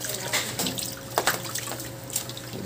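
Rinse water mixed with a bath solution is poured over a hedgehog during a bath, giving a light splashing and trickling with a few irregular pours, close by, while a low hum sits underneath.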